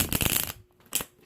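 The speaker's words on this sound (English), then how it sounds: "who else loves the riffle shuffle sound?" A quick riffle shuffle of tarot cards gives a dense, crisp burst of flicking card edges, followed by a softer snap as the deck is bridged back together, close and clear.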